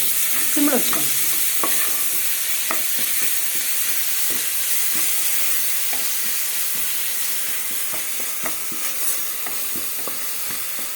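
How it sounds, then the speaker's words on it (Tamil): Chicken biryani masala frying in a pot on the stove, a steady sizzle and hiss with repeated scraping strokes of a spoon stirring close by, and no talking. "இது அடி பிடிச்சிரும், சீக்கிரம் கிண்டி விட்ருங்க."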